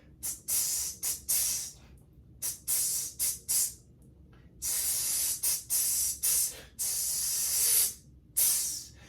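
A series of sharp, breathy hissing bursts from a bass clarinet sizzle articulation, some short and some held for over a second, separated by brief silences.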